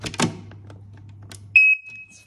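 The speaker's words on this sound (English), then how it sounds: "Let's check the smoke alarm." A smoke alarm being tested during a home inspection: a few faint knocks and rustles, then one loud, piercing electronic tone of about half a second, followed by quiet room sound.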